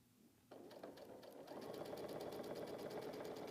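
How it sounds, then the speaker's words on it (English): Sewing machine stitching quilt fabric, starting after half a second and then running in a steady, fast, even hum of needle strokes that speeds up slightly, close and alone without talking. "I'm not letting the machine pull in as much fabric as it wants to."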